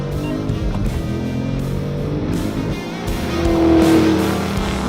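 Two muscle cars, a Dodge Challenger Scat Pack and a Ford Mustang 5.0, drone hard under acceleration in a drag race, a steady engine rumble that swells louder near the end, heard from inside a car.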